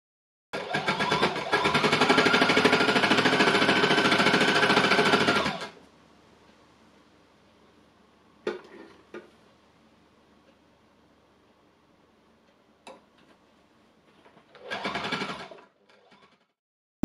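A needle felting embellisher machine punches fabric in a loud, fast, buzzing run lasting about five seconds, followed by quiet clicks and handling noises and then a second short burst near the end.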